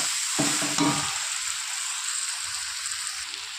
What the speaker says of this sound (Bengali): এরকমই আমি 10 মিনিট মতো এরকম বেগুনটাকে ভাজা ভাজা করতে